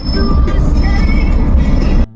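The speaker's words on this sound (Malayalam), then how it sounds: "ട്രെയിൻ വന്നേ, 15 മിനിറ്റ് പോസ്റ്റായിട്ടാണ് വന്നേ." Loud, steady rumble of a train rolling into a station, with faint high squeals of wheels on rails, cutting off abruptly near the end.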